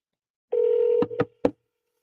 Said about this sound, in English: let's call him